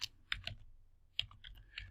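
A few light keystrokes on a computer keyboard while a company name is typed into a search box, quiet scattered clicks in small clusters.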